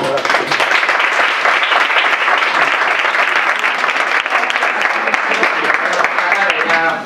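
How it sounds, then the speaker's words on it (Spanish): Sustained, loud audience applause at a university seminar on corporate social responsibility in Ciudad Real, thick and continuous throughout without pause. "un fuerte aplauso para ellos"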